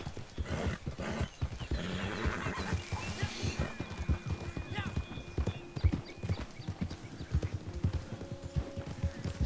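Horse hooves clip-clop at a gallop in a video game, a steady rapid beat with a whinny, under ongoing Spanish-speaking players' talk.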